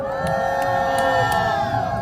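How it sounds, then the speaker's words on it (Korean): An outdoor political rally crowd at a university cheers and shouts loudly over a public address system, with whoops and sustained cheering filling the short stretch and a tonal hum running beneath. "큰 박수 부탁드리겠습니다"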